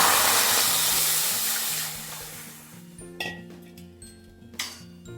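Water is poured into a cooking pot for steaming whole gooseberries: a steady rushing hiss that slowly fades over about three seconds, then a few light metallic clinks of the pot.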